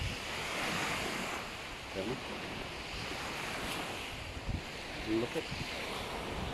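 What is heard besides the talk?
sea waves at a beach chalet in Kuwait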